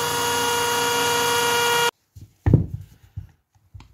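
A power drill with a 2.5–3 mm bit whines steadily and loudly for about two seconds while drilling out the rivets of a car wiper motor, then cuts off abruptly, followed by a few sharp metallic knocks and clatters.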